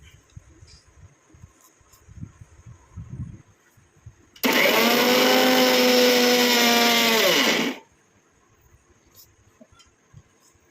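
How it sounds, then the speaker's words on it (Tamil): A mixer grinder whirs loudly for about three seconds while grinding Kerala black cumin and other hair dye ingredients, starting abruptly and winding down, with quieter handling noises before and after. "இதை நல்லா நம்ம அரைச்சி எடுத்துக்கலாம்"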